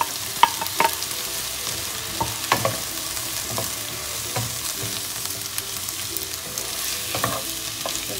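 Prawns stir-frying in a pan over a high flame give a continuous close sizzle, broken by intermittent scraping and tapping as they are tossed and stirred, with no voices.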